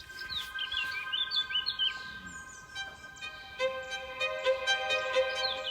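Songbirds in a garden at a home in Italy chirp and trill in quick, overlapping phrases, with several calls layered against a soft background hush.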